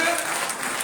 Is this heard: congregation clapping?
yes